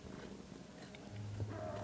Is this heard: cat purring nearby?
yes